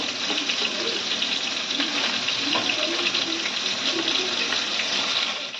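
Water pouring steadily into a pan of mixed vegetables for a rohu fish curry, a continuous close splashing rush that runs unbroken before cutting off at the end.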